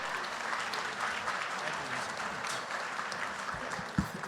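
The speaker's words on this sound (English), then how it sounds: "So please give him a round of applause." Sustained audience applause at a charity luncheon and fashion show, a broad even wash of clapping hands with one sharper thump near the end.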